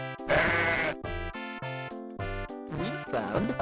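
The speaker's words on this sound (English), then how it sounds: "I see a sheep." Sheep bleats from the Mega Drive game Barney's Hide & Seek, a series of loud, synthetic-sounding baa calls in close succession with short gaps, cheerful chiptune music underneath.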